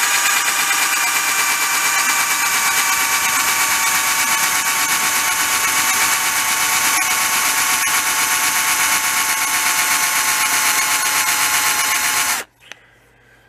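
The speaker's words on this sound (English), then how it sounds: "Remember, this is just cheap electric drill. It's not even a powerful one." A cheap, low-powered electric drill with a hand-sharpened HSS split point bit drills metal, whining steadily at high pitch for about twelve seconds, loud and close, then cuts off abruptly, leaving quiet.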